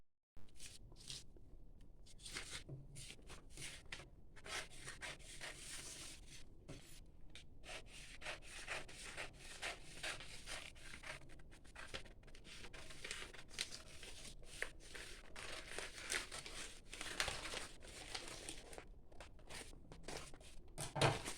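Scissors snip and rustle steadily through a paper pattern for a large blouse, a long run of close crinkling and scraping sounds with short pauses between cuts.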